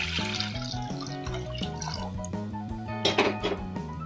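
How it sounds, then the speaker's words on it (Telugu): A liter of water pours steadily into a cooking pot set on a stove for ragi java, a continuous close splashing flow with a brief louder gush near the end, no talk. "1 గిన్నె పెట్టి అందులో 1 లీటర్ వాటర్ పోసుకుంటున్నాను."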